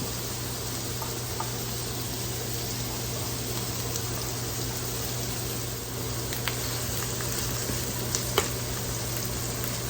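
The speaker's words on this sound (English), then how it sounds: "you do not want to cover this while it is sauteing" Chopped onions sauteing uncovered in a pan for turkey enchiladas, giving a steady, even sizzle with a few faint clicks near the end and no talking.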